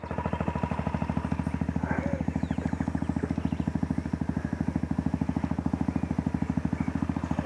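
A motorcycle engine runs steadily up close, its rapid, even putter continuing without a break as the bike rides through the town of Itapé.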